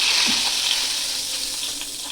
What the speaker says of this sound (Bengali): তো তেজপাতাটা দিয়ে এভাবে তেলের সঙ্গে একটু হালকা ভেজে নেব।